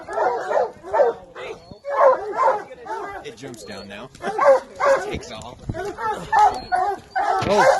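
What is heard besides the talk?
hunting dogs barking at a black bear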